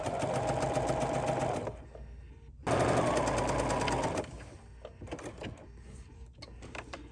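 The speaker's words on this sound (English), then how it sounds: "I'm going to stitch with a 5/8 of an inch seam allowance all the way to the other side" A sewing machine stitches a seam on a drawstring bag with a 5/8 inch seam allowance, running in loud steady bursts with a pause in between, then quieter intermittent mechanical clicks.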